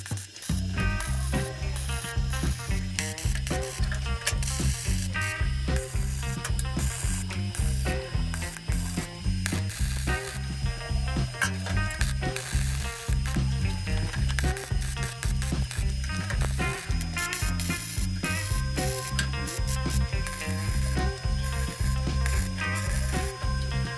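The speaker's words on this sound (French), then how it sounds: "j'ai plus qu'à tout souder" Welding reinforcement bars on a Renault 4L roll cage makes a continuous crackling, buzzing sizzle of the arc with rapid irregular pops, close and loud over a rhythmic musical beat, without speech.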